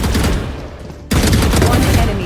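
Dense gunfire in Valorant, sustained loud bursts of rapid shots that cut out briefly and then come back even heavier.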